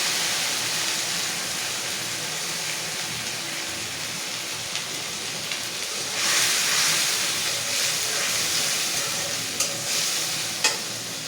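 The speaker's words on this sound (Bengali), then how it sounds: "পেঁয়াজটা একটু লাল লাল করে ভেজে নেব।" Onions fry and sizzle in a pan until reddish, a steady hiss of hot oil with occasional scraping stirs and a louder burst of sizzling partway through.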